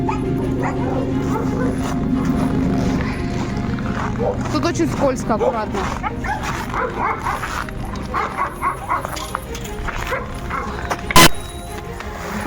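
A Yakut dog at a rescue barks and yips repeatedly, with whimpering in between, while people talk close by; a sharp bang rings out near the end.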